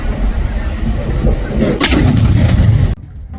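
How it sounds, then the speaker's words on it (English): A noontime cannon at Fort Atkinson, Nebraska, fires once with a loud, sharp, close blast followed by a rumbling tail that cuts off abruptly. "we just did the firing of the noontime cannon"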